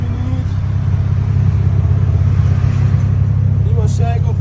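A Nissan Z idles and revs through its exhaust system, a loud, steady low rumble that swells slightly before settling, heard close up with no talking over it.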